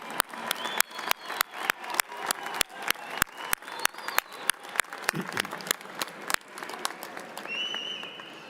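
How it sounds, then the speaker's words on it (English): A graduation commencement audience applauds steadily, a dense field of many hands clapping with a few sharp nearby claps standing out, sustained throughout before easing slightly near the end. "Please join me in giving them a round of applause for their support."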